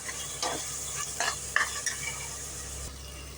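Masala for mutton biryani sautéing in a pot, a continuous close sizzle broken by a few quick scraping stirs of a spatula, with no talking.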